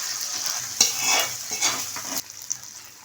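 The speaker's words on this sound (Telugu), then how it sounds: "ఇలా మొత్తం మిక్స్ చేసుకోవాలి." A spoon stirs a sweet offering mixture with cardamom powder and raisins in a hot pan, making soft scraping and sizzling sounds with a few sharper clicks of the utensil against the metal, close by and alone.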